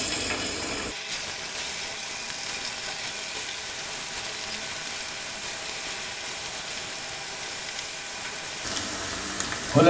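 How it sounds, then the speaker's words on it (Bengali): Marinated chicken pieces for Bangladeshi-style dragon chicken fry in hot oil, giving a steady, dense sizzle and crackle that runs nearly the whole time, with quieter moments only at the very start and end. "নিয়ে এইগুলা সহই এর মধ্যে ছেড়ে ছেড়ে আমার এগুলোকে ভেজে নিতে হবে।"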